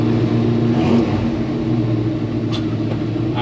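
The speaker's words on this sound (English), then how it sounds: "I'm gonna let it warm up a little bit, get that heat going" A Chevy C-10 truck engine idles while warming up, a loud, steady low rumble with a slight rise and fall in revs, close and uninterrupted by speech.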